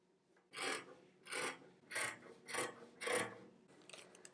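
Pencil or marker dragged across a jeans pattern to mark seam allowance, five distinct rasping strokes in a steady rhythm, close and clear with no talk.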